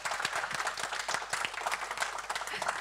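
An audience at a local ceremony breaks into applause, a steady patter of many hands clapping at moderate volume, with faint voices underneath.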